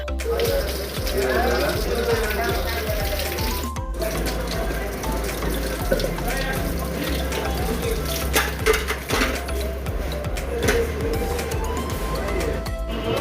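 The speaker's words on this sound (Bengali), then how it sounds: "এখন এখানে হাত মুখ ধোবো" Water runs steadily from a tap as someone washes their hands and face before sitting down to eat, a continuous close splashing flow with faint clatter and some background voices.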